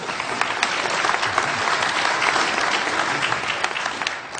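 A live theatre audience at a radio drama staging of It's a Wonderful Life applauds the technical director, a steady dense wash of clapping hands sustained throughout at full strength.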